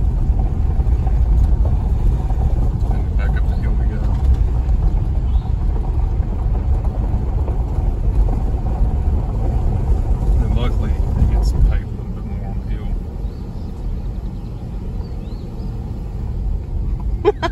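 Car climbing a hill slowly, a steady low engine rumble and road noise from inside the cabin that drops to a quieter level partway through, with people talking over it.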